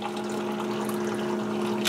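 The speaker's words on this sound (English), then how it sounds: "then one to serve up your hot water" Hot water runs from an electric tea brewer's dispenser into its brewing vessel with a steady, close pouring rush and a motor-like hum beneath it, continuous for about two seconds with no voices.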